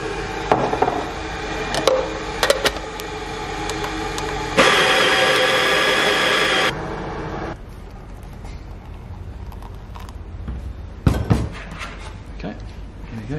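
Coffee beans, 14 grams, being ground in a short burst of a few seconds of steady whirring amid handling clatter and knocks, with a person speaking around it.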